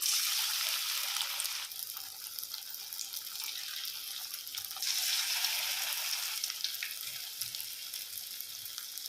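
Drumstick leaf bhaji batter frying in hot oil gives a steady, bright sizzle that swells and eases, heard close and continuous for several seconds with no voices.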